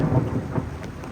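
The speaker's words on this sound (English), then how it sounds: "Oh yeah, that's a storm." A brief burst of thunder rumbles low over steady rain during an evening storm at an animal theme park safari, with no voices.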